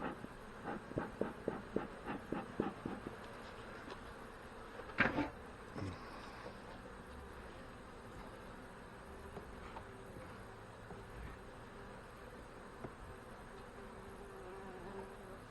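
Honey bees buzz around burr comb at a hive, a low steady drone with a few sharper knocks and scrapes early on.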